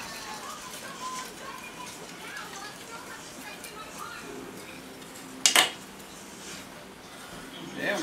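Chicken wings are tossed with a spicy ranch garlic sauce in a pan, giving a soft, ongoing sizzle and stirring sounds. One sharp metallic clank of pan and utensil stands out midway.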